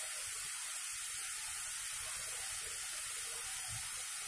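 Masala namak pare sizzle in hot oil, a constant bright hiss with faint crackling bubbles, steady and fairly quiet throughout.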